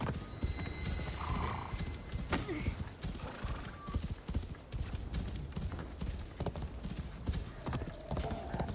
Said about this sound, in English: This reminds me of Altair's horse.